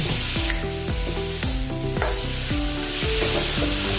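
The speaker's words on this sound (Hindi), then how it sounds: "अच्छे से मिला देंगे" Palak mooli curry being stirred in a pan, a spoon scraping in repeated strokes roughly every half second over a steady background sizzle, close and alone with no talk.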